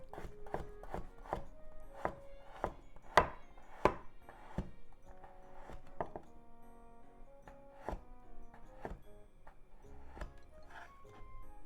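A knife slices frozen garlic into thin slices on a cutting board, giving a quick run of crisp, close chopping knocks in an uneven rhythm, with a few louder thunks near the middle.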